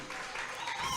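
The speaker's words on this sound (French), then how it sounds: "Vous applaudissez." An audience claps at a kindergarten graduation ceremony in a brief, steady spatter of applause with voices mixed in.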